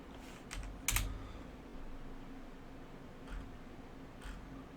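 Chopped garlic is not involved here; fingers type a name on a computer keyboard while a macOS virtual machine runs in VMware Workstation Pro 15, giving a few scattered, fairly faint key clicks over a quiet room hum.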